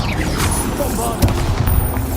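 A Bombarda spell explosion in the video game Hogwarts Legacy: a dense, booming blast with a sharp burst partway through, set against continuous busy combat noise, with a voice speaking over it.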